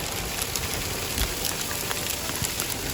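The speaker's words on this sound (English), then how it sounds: "And now the rain is turning to hail." Rain turning to hail over a valley along the Escalante River, heard as a steady dense patter and hiss of drops striking surfaces, with occasional sharper ticks, loud and continuous throughout.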